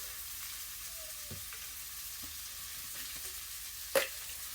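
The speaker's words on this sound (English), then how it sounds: "the peppers are getting where I can cut them with the old spatula pretty easy" Peppers for ribeye fajitas fry quietly in a pan with a soft, faint sizzle, a few light spatula taps, and one sharper clack near the end.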